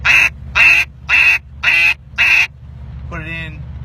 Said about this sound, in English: putting air into a call the exact wrong way, and it's still getting a duck sound to it